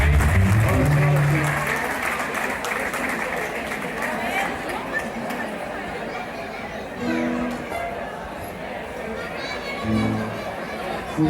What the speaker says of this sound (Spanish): Un aplauso para el artista, ¿eh?